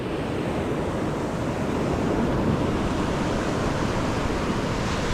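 Steady surf and breaking waves at Kata Noi Beach in Phuket, a continuous broad wash of water heard from the shore with light wind, no voices.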